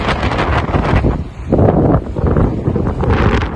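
Strong gusting wind buffets the microphone on a mountain hike across the Vercors plateau, a loud continuous roar that swells and eases without a break, and no voices.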